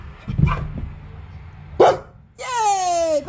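A dog barks on command outdoors, giving a couple of short barks followed by a drawn-out whining yelp, close to the listener, with a person's voice nearby.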